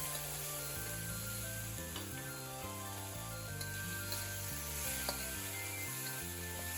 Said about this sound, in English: now add in the shrimp. Stir it around.